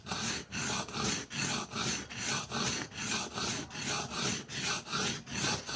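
A knife blade strokes back and forth across a whetstone in a fast, even rhythm of about a dozen rasping passes, each a close, gritty scrape with brief pauses between.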